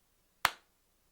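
One sharp hand clap for an audio sync test, heard close and alone against near silence, decaying quickly.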